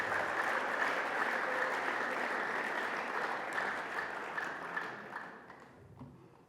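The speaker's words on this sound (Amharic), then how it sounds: "ለራሳችሁ አጨብጭቡ።" A church congregation applauds as one broad, dense wash of clapping. It holds steady for several seconds, then thins and fades away near the end.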